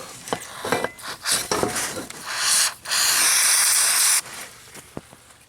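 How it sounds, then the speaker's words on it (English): Brake cleaner sprayed onto a sludged-up Buick V6 throttle body, a short hissing burst then a longer sustained spray, with handling and rubbing noises before and a faint clink after. "To get some Eric O style brake clean."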